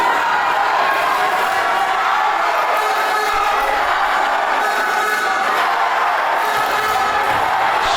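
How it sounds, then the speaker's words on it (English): A boxing crowd roars and cheers steadily in support of a fighter, a loud continuous wash of voices filling the arena throughout. "listen to that crowd, what support for their young man as he comes forward again"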